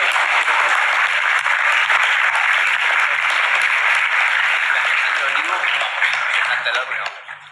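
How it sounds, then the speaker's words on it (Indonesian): An audience breaks into sustained applause at a dialogue between Pope Francis and young people, dense clapping filling the space at a steady level before thinning out at the end. "Tepuk tangan."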